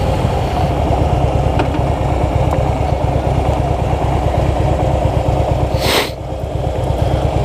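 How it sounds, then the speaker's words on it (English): A car engine running steadily at low revs as the clutch is slowly let out and gas gently applied during practice, a close, even, throbbing drone with no lurching, broken by one brief hiss near the end. "you slowly let off the clutch till you feel the engagement zone and slowly give it gas at the same time"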